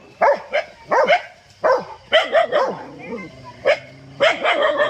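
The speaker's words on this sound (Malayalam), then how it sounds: "നായ്ക്കളുടെ കുരയെ അതിജീവിക്കാൻ കാട്ടുപന്നിക്കായില്ല" Pet dogs chasing a wild boar out of farmland bark in quick repeated bursts, close and loud, with several overlapping barks across the clip.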